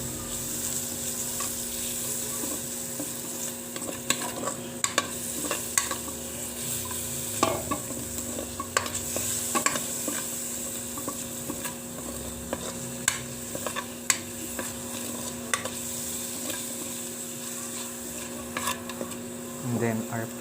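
A pork stir-fry sizzles steadily in a pan after an orange, ginger, cornstarch and soy sauce mixture goes in, with frequent sharp clicks and scrapes of stirring utensils over the constant frying hiss, and no talking.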